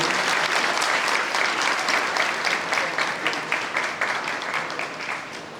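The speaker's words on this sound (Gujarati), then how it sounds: "તાળીઓથી વધાવી લઈએ." A hall audience at a felicitation ceremony claps together in sustained, even applause that stays loud and dense throughout before tapering slightly at the end.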